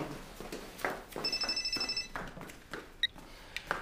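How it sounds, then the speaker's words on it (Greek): A telephone rings indoors, a thin electronic trill lasting about a second, fairly faint and heard amid background sounds. "Το τηλέφωνο."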